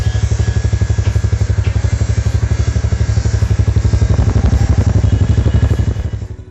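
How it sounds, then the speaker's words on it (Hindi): A Yamaha YBR125 motorcycle idles with an unsilenced exhaust, producing a loud, close, steady rapid thumping pulse throughout. The engine is then cut, and the sound dies away at the end. "लेकिन उससे पहले मैं आपको बाइक की साउंड सुना देता हूं"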